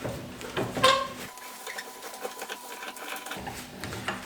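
A threaded screw being turned out of a blacksmith's post vise clamped to a table, heard as close metallic squeaks and scraping ticks, with a quiet stretch in the middle and no talk.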